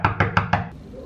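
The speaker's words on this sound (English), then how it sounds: "We're gonna knock and run and hide down the hallway." Four quick, sharp knocks on a dormitory room door, evenly spaced and close by, followed by a brief hush.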